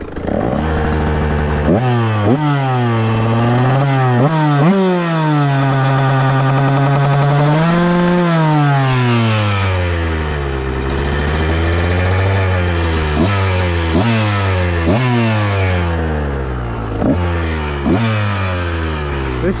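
A 2023 KTM Husqvarna 125 motorcycle with a remapped ECU revs hard and close, its engine pitch sweeping up and dropping back again and again in sharp, loud bursts, with no talking.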